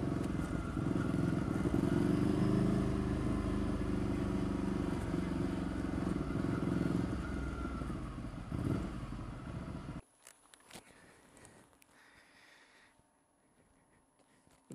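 Ducati Scrambler motorcycle engine roaring loud and steady for about ten seconds, then cutting off abruptly to a much quieter background with faint rustling and clicks.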